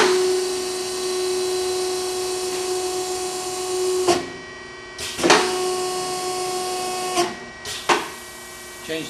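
Castaly automatic raised panel door shaper machine running with a steady whine and hiss, broken by a few sharp mechanical clunks near the end as its stroke is adjusted.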